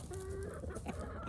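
Several chickens cluck softly and continuously, with a faint tonal call among them, at a steady moderate level with no one speaking.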